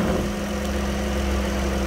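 A 3.6-litre engine idles in the engine bay of a 2019 Dodge Caravan minivan, a steady close hum throughout with no talk.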